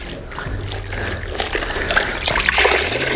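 Water trickling and splashing as a car is rinsed during a ceramic wash, with a steady hose-like flow and intermittent splatter close by.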